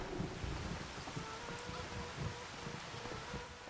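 Steady rain in the video game Farming Simulator 25 hisses with a low rumble like distant thunder, no voices, holding evenly throughout.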